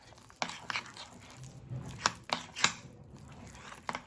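Sesame paste being stirred with Sprite in a bowl, soft wet scraping broken by a few sharp clicks of the utensil against the bowl, close and quiet with no talk.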